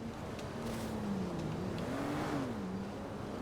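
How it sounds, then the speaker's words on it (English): A loud car engine in the GTA 5 video game revs and drones steadily nearby, its pitch rising and falling across the moment with no talk over it. "I just heard a very loud car."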